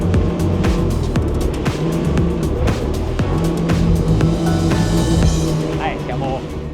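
A Ranieri Cayman 50.0 maxi RIB runs its engines at full throttle through sharp turns, a loud, continuous low engine roar with rushing water noise while someone talks over it.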